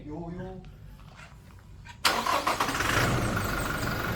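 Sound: car engine starting

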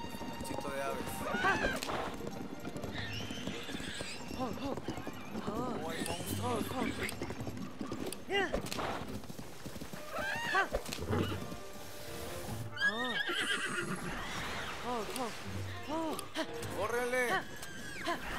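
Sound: horse galloping and neighing in video game Zelda: Tears of the Kingdom

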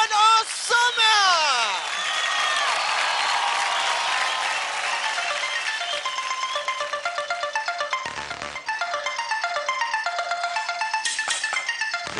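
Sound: loud applause from the dance show audience

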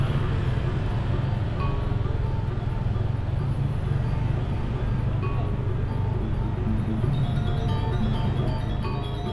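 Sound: street ambience in Seminyak, Bali

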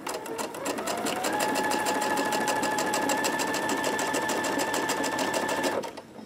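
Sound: sewing machine stitching quilt fabric

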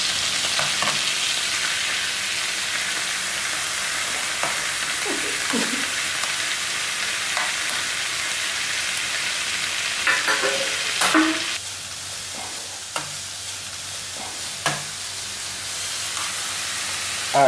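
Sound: Apple iPad boiling in liquid nitrogen

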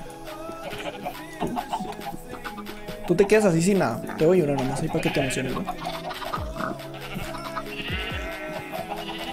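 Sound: sheep bleating in Minecraft, a video game

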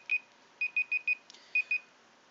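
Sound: alarm going off

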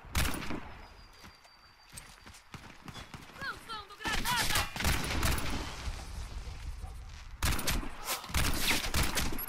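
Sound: gunfire in Warface video game

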